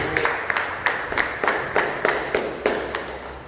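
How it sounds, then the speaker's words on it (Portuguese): A church congregation claps for Jesus during a worship service, a steady beat of sharp, even hand claps repeating about three times per second against the room's ambient hum. "Aplauda o Senhor Jesus."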